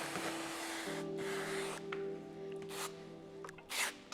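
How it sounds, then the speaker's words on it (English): A few short hissing spray bursts of slip solution onto paint protection film on a Buick Envista front bumper, close by, with a low steady hum underneath and no talking. "I want to spray some slip solution on top of the film as well too."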